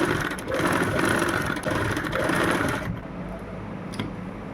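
Sewing machine running a fine seam on a kurti, a close, fast continuous whirring stitch that runs for about three seconds, then slows and eases to a quieter hum.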